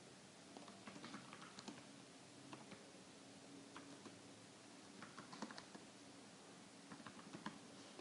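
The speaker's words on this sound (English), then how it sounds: "I can simply type any comment" Someone types on a computer keyboard, quick uneven clusters of soft close key clicks with short pauses, quiet and alone.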